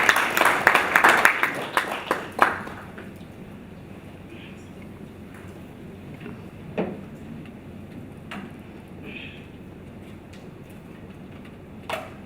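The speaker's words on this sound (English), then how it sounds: "may we kindly give him a round of applause" Brief burst of applause from an audience at the opening of an academic school on decentralisation, loud for about two seconds before fading into a quiet room with a few isolated claps.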